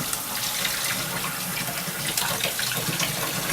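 Reasonably warm water runs steadily through a Solaire spray gun during rinsing, a continuous close hiss and splash with no talk.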